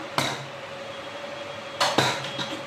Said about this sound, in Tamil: நம்ம இப்போ குக்கரை ஓப்பன் பண்ணி நம்ம ரைஸ் எடுத்து வச்சுக்கிடலாம்